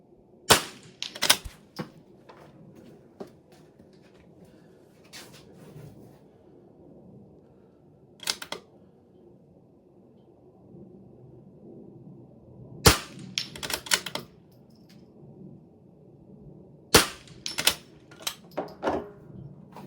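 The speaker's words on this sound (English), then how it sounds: "Now we're on the right barrel, engaging the left target with 2 shots, wrapping up this stage." Rifle shots ring out in an NRL22 rimfire precision shooting stage, sharp reports in clusters with gaps between, some followed by faint target impacts, over steady outdoor background noise.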